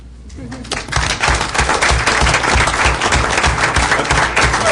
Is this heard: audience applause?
yes